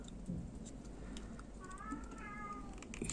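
A cat meows indoors, a single drawn-out, wavering call rising over a steady background hum.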